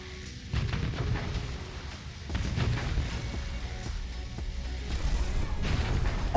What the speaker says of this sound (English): That's a chunky cannon.